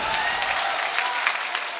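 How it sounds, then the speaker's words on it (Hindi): A mushaira poetry gathering audience bursts into dense, continuous applause, a brief steady wash of clapping with no talk over it. "एक बार प्रशासन के लिए जोरदार तालियां बजा दीजिए।"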